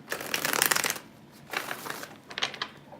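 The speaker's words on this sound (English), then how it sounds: "I felt like I needed to shuffle again." A deck of tarot cards riffled close by in three bursts, the first long and loud, the next two shorter and softer, with no talking.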